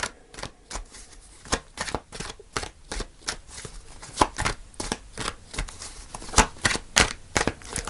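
Tarot cards are shuffled by hand in a series of crisp riffling bursts and soft slaps, irregular and close, each flurry separated by brief pauses, with no talking.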